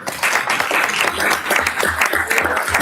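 A group applauds county Parks Department staff at a Wright County board meeting, a steady, fairly loud wash of clapping that carries through the clip with no voices standing out.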